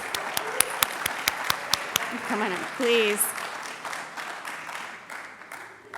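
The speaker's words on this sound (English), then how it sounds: "Big round of applause." Audience applause for a panelist at a conference: a few sharp, distinct claps, then steadier clapping with cheers, while a voice speaks over it near the microphone.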